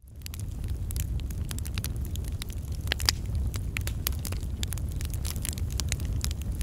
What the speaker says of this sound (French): Un feu qui crépite.